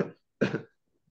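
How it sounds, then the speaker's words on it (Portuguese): A person coughs in two short, harsh bursts separated by a brief pause, close and fairly loud, followed by faint quiet sounds at the end. "You start very coughing. Você começa a tossir assim."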